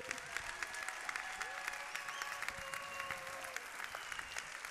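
A large hall audience at a French startup event applauds and cheers in a sustained, dense roar of clapping, with a few louder claps standing out near the front and faint voices lifting inside the crowd noise.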